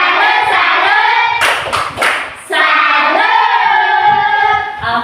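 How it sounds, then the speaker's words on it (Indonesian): Classroom group of primary school pupils doing a rhythmic 'tepuk salut' clapping cheer, a short burst of loud hand claps for a couple of seconds between sustained chanting voices. "kita tepuk salut sambil tunjuk ke arah kelompok 2"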